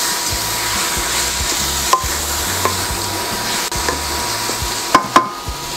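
Chicken sizzling in a pan, a steady loud frying hiss with occasional sharp pops and utensil clicks, close by.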